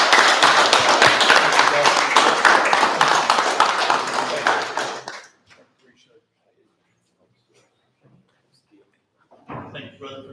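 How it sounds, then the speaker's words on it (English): A commissioner's court audience gives a round of applause, a dense, steady clapping that runs for about five seconds and then fades into near silence, with a brief noise at the end. "Give them a round of applause."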